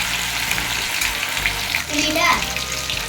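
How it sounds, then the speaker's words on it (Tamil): Mackerel fish frying in a pan, a dense, loud hiss of hot oil that bubbles and crackles continuously up close for a few seconds, with a short brighter flare of sputtering near the end. "கானாங்கத்தை மீன் வறுவல்"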